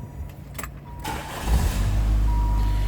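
A 1989 Chrysler TC by Maserati starts up: a short whir of the starter, then the engine catches and settles into a steady, low idle rumble that fills the rest of the moment.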